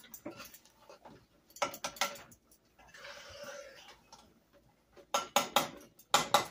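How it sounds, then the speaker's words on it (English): Rice being stirred in a pot with a utensil, giving sharp clacks and scraping taps in clusters, a softer sizzling stretch in the middle, then several close, loud knocks. "I'm making a mess as I'm stirring it"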